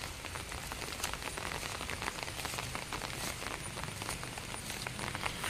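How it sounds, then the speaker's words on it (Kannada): Heavy rain pours steadily over green bushes and shrubs, a dense, even hiss of drops pattering on surfaces, constant and fairly close with no pauses. "ಜೋರು ಬಂತು ಮಳೆ"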